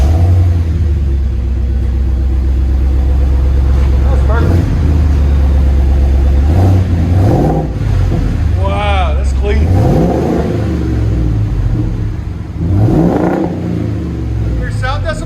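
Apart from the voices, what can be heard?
2022 Ford F-350 7.3L gas V8 revving with Borla XR-1 exhaust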